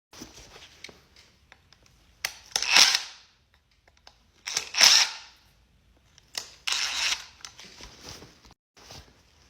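Screws being removed from the float bowl of a neglected, dirty carburettor, heard as several separate bursts of close metallic screwdriver or drill whirring with short quiet gaps between them.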